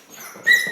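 A dog whimpers from inside a crate, a thin high whine that rises and swells in the second half of this short moment, fairly close with faint background noise.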